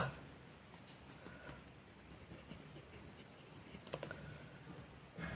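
A pen scratching on paper while drawing a bar graph, faint irregular strokes and short scrapes in a quiet room, with no voices.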